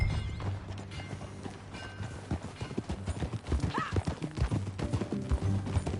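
Hooves clop in a steady rhythm as a horse is ridden at a trot in Red Dead Redemption 2, with a low background hum and faint creaking tack, growing louder and closer toward the end.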